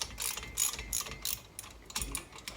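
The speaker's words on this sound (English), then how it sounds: "I'm just snugging up the 4 head bolts" A wrench snugs up the four cylinder head bolts on a Norton Commando motorcycle engine: quick bursts of close ratchet clicking come in short, uneven strokes with brief pauses between them.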